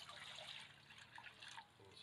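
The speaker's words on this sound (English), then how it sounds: "See the water just pouring out of that now." Water pours and trickles through a hole in a camping cook pot, a faint continuous splashing dribble with small fluctuations, heard alone outdoors.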